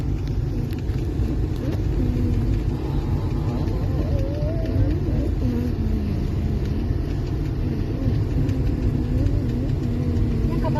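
Car interior on the move: a low, continuous engine and road rumble holds steady throughout, with faint voices murmuring underneath.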